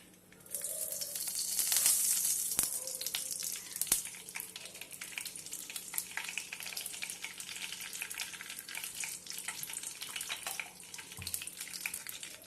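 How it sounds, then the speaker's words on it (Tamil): Steady sizzling and crackling of about four tablespoons of ghee heating in a pan, moderately close, with a few faint clinks and no talking. "இப்போ இந்த நெய் சூடாயிடுச்சு."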